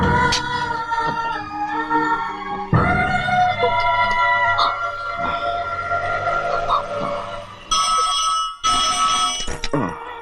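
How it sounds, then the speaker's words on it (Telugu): An old-style telephone rings in a Telugu film scene, a bright electronic trill heard through busy background music in repeated bursts, with a sharp burst near the end. "అమెరికా నుండి ఫోన్."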